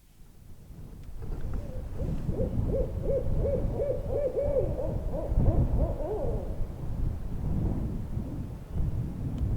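Repeated owl hoots ring out in a steady series over a low rumbling, windy background, fairly close, fading after several seconds.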